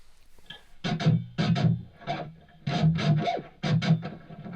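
Music loop run through a room reverb effect tuned for a thick rather than echoey sound: rhythmic bursts of chords and percussion in repeated phrases, moderately loud, with a smeared, dense tail between hits and no talking.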